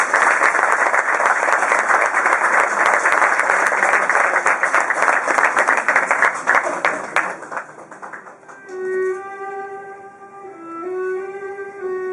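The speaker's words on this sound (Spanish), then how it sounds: "Un aplauso para él, por favor" Sustained audience applause at a recital in a cultural hall, loud and dense for about eight seconds before fading, with a piano's notes entering as the clapping dies away.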